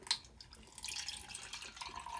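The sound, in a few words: ice cold water poured into double-walled plastic cup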